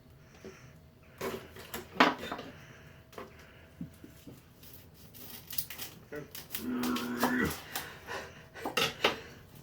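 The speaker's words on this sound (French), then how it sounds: "C'est dur de couper des oignons" A knife chops onions on a kitchen board while a quiche with onions, courgettes and goat cheese is prepared, giving scattered sharp knocks and clatters of blade and utensils, some in quick bursts, with faint room noise between.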